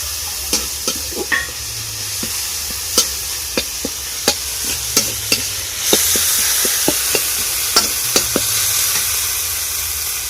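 Chopped ginger and tomato frying in a pan, a steady sizzle under repeated clinks and scrapes of a spoon stirring, close and fairly loud, with the sizzle swelling partway through.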